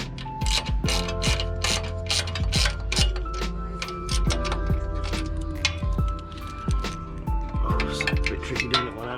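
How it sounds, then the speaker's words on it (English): Bolts wound in by hand with a ratchet while fitting a Mocal 19-row oil cooler to a K-swapped Honda Civic, giving steady close clicking and ticking with metallic clinks and short pauses. "so I'm just going to wind the bolts in"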